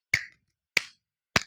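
Three crisp, evenly spaced hand claps ring out in a quiet classroom, each a short sharp crack with a little room echo, as students follow a teacher's clapping game.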